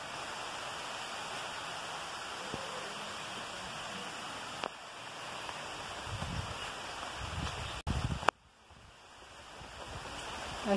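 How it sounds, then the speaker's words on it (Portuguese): Rain falling steadily at a country farm retreat, a dense, fairly loud hiss that swells throughout, with a brief break and thump near the end. "E a chuva está engrossando."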